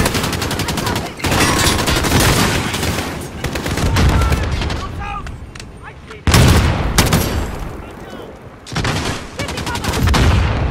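Rifle fire in the video game Call of Duty Modern Warfare, shot semi-automatic like an FAL. Loud, close bursts of rapid shots are broken by short pauses, with a brief quieter stretch between volleys.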